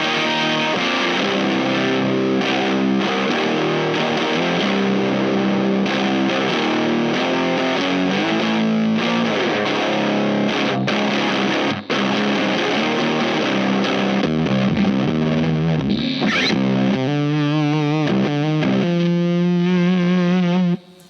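Electric guitar through a Warm Audio Warm Bender fuzz pedal on another setting, with dense, heavily distorted riffing held loud and unbroken, ending in wobbling, pitch-warped sustained notes and a brief cut-off.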